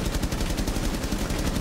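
Rapid bursts of automatic gunfire in a first-person shooter video game, sounding close and loud, with rhythmic shots repeating without a break.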